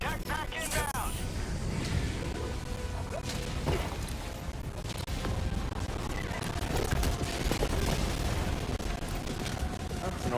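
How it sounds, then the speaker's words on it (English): Orbital walking barrage in Helldivers 2, a dense roll of explosions and blasts rumbling continuously for about ten seconds amid battle noise, loud and sustained with overlapping booms and crashes. "That's an orbital walking barrage."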